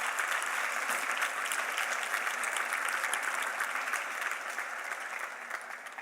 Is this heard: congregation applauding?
yes